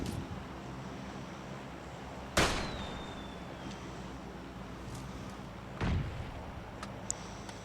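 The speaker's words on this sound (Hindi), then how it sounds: "अपनी फ्लेयर गन को चलाते हैं" Two sharp, loud bangs of a flare gun fired in the mobile battle-royale game PUBG Mobile Lite, the first followed by a thin rising whistle, the second a few seconds later, over a steady game ambience.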